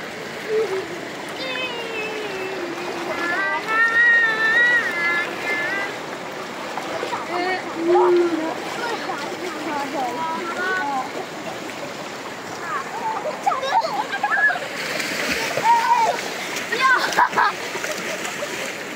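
Children splash and play while bathing in a river, with steady running water, intermittent splashes and sloshing, and kids' voices and shouts mixed in throughout.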